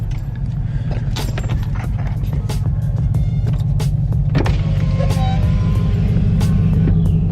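A big lifted pickup with tow mirrors eases into a service bay for an oil change, its engine a steady low rumble throughout, with scattered light clicks and knocks of movement on top.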